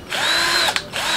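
A cheap cordless battery drill whirs in two short bursts, a steady high motor whine that briefly dips and restarts, close and fairly loud with no voices.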